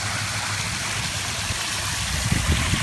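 Water pouring from a stone waterfall feature into a backyard pool, a steady broadband rush with bubbling low splashes that grow a little stronger near the end, close and continuous with no talk.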